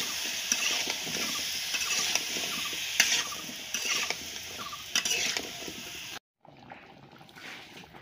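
Vegetables for a bottle gourd curry stir-fried in a pan, a continuous sizzle broken by repeated scraping and clinking strokes of the spatula, close, cutting out briefly before resuming more quietly.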